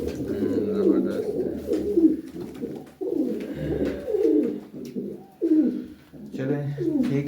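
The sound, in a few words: pigeons cooing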